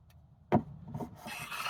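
A hand file or rasp scrapes across a piece of wood being flattened, a sharp single stroke followed by softer rubbing strokes that grow into a continuous rasp, close and fairly loud.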